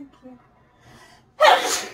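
A single sharp sneeze bursts out loudly near the end, after a few quiet breaths and soft voice sounds indoors.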